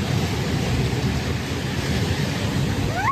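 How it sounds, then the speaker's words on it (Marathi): Steady rain falling after a storm, with low rumbling thunder mixed into a dense, continuous wash of noise throughout; no voices. "फायनली खूप सारा वादळ वाऱ्यानंतर आला आहे पाऊस."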